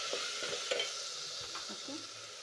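A chickpea and potato curry is stirred in a pan, giving soft scraping strokes over a steady low sizzle of frying, close-up and without speech.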